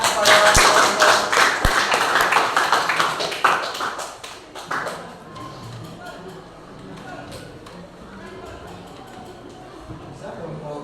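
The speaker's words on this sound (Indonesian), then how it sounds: "berikan tepuk tangan kepada kelompok" Classroom applause for a group presentation at a private high school, a burst of clapping from many hands in the first few seconds that fades into quieter room murmur.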